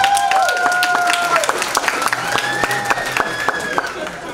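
An audience at a high school graduation ceremony claps in a steady patter of applause, while a voice speaks over it through the sound system.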